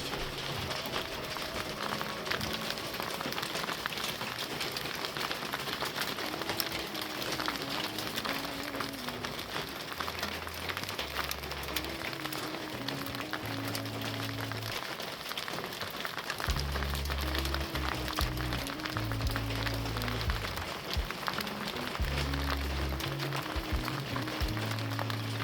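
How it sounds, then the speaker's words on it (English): Small hail falls steadily outdoors in Santa Cruz, a dense, even patter on surfaces with occasional heavier low thuds, continuous and moderately loud with no talking. "Ooh, we do get hail here."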